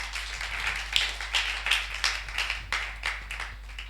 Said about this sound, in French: Acclame pour ta vie.